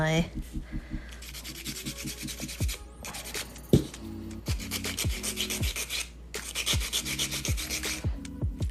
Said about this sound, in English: it's just very awkward filing this at the present moment